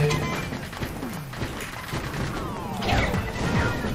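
Bottle thrown and shattering in Zelda: Link's Awakening, a couple of sharp smashing crashes over busy game music and effects, with a louder crash near the end.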